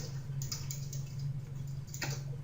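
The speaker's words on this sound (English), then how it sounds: "That typing is the sys user." Faint keyboard typing comes through a call's audio, soft irregular clicks in short bursts over a steady low electrical hum.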